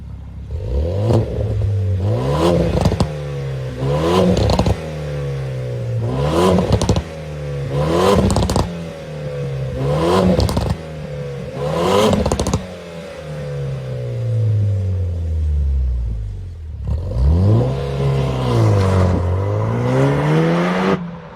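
Fourth-generation Renault Megane RS Trophy, a 300-horsepower hot hatch, driving hard: repeated engine revs climbing through the gears with sharp shifts between, a long falling coast-down, then renewed acceleration, loud and close.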